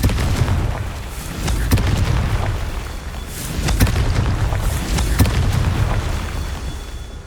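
Confringo fire spell explosions in the Hogwarts Legacy video game, a dense run of loud booming blasts and crackling bursts, with several sharp hits standing out over a heavy rumbling bed.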